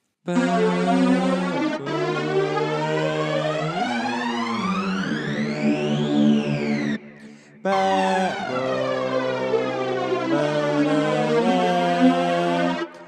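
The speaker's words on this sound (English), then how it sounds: "we've just used the System 8 Saws preset and added an Echo Boy Jr. preset from Sound Toys, and an OSL chorus" Bright, buzzy Roland System-8 saw synth chords ring out with a shimmering chorus and trailing echoes, pausing briefly before the sustained pad resumes.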